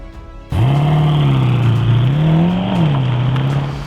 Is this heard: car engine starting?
yes